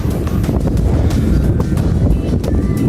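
Strong wind buffets the microphone while cycling on a long road ride, a constant loud roar with gusty rustling bursts and no voices.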